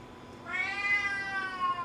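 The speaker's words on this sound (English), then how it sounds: "My cat already smells it and she's asking for a taste" A cat meows once, a drawn-out, rising-then-falling cry lasting over a second, close and clear against a quiet indoor kitchen background.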